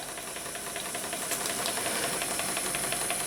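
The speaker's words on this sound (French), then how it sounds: "vous avez ici un diffuseur de vapeur, ce qui fait que lorsque je serai sur l'eau, je ferai un joli panache." Steam hisses steadily from a steam diffuser on a small boat, a continuous broadband rush that stays loud and even throughout, with no voices.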